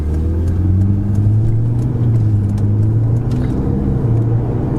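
A Ferrari supercar engine cruising in sixth gear at low road speed gives a steady, deep, smooth drone throughout, heard from inside the car.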